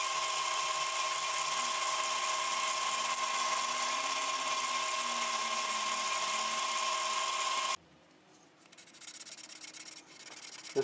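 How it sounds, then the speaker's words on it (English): A brownheart wood pen blank spinning on a lathe is sanded with sandpaper, giving a loud steady whine with a constant tone for most of the stretch, then it cuts out and gives way to quieter, uneven rubbing and scraping. "when you step up to each grit of sandpaper, what you're doing is you're trying to get rid of the scratches you put in before."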